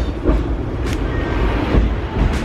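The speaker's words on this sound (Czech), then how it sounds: "Dvoupatrový tramvaj." A double-decker tram rides through Hong Kong, heard from onboard as a loud, steady rumble of wheels and carriage noise with occasional rattles and clacks.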